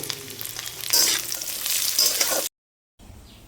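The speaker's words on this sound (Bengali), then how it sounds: "চলুন এটা সুন্দর করে ভেজে নিই আমি এবারে কিশমিশগুলো দিয়ে দেবো" Raisins and dry fruits fry in ghee in a pan for rice, a close bright sizzle with stirring that rises and then cuts off abruptly before a faint tail.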